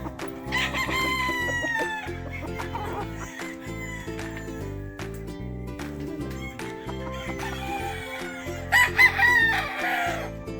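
Boston Sweater gamefowl roosters crowing repeatedly at a game farm, several overlapping crows near and farther off, with a louder close crow near the end.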